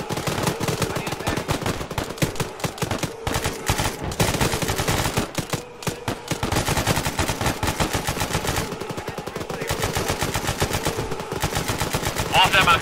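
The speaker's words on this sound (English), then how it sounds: "We've got contact. Open fire." Sustained automatic gunfire in a video game firefight: dense, continuous bursts of machine-gun fire close up and loud, layered with overlapping shots, with only brief lulls across the whole stretch.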